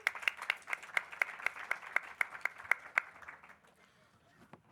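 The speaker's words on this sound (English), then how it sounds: "round of applause" Clapping from a small audience at a professional masterclass welcoming a speaker to the front, made of sharp, steady, evenly spaced claps close by that fade out after about three seconds, leaving a few stray claps.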